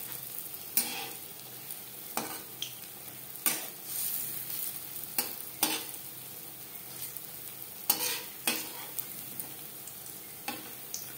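Raw banana kofta balls frying in oil in a kadai, a steady soft sizzle punctuated by repeated sharp clinks and scrapes of stirring every second or so, no talking.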